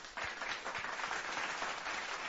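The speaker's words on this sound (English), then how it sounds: "we'll give him a round of applause for making that beat for us" A round of applause from an audience, dense even clapping that holds steady and fairly quiet for a couple of seconds with no voices over it.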